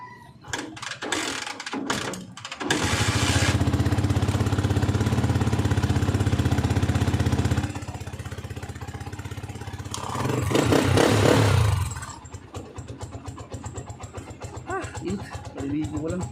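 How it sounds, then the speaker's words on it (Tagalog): A tricycle motorcycle engine idles while warming up, a steady close rumble that grows louder from about 3 to 8 seconds, swells again briefly near 10 to 12 seconds, then settles into a lighter ticking idle. "Painiti muna natin makina niya."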